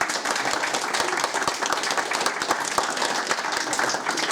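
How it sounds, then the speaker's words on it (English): A crowd applauds steadily with dense, fast clapping that stays at an even level for the whole stretch, with no speech on top of it. "I think you deserve a round of applause."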